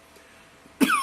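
A single short throat clearing, sharp and close, cuts in near the end after near silence during a home religious gathering.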